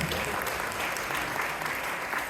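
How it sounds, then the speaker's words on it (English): Audience at Dr. MLK Jr. College Prep High School applauding school staff and students, a steady dense wash of clapping throughout with a faint voice underneath. "So I just want to applaud our staff at King and our students"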